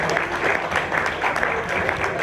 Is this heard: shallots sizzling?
no